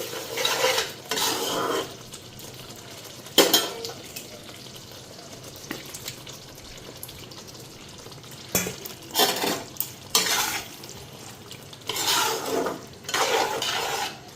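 Paneer pieces are stirred with a metal spoon in a sizzling pan of butter and masala. Bursts of scraping and clinking come in clusters over a soft frying hiss.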